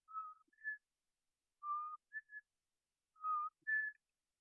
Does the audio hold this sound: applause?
no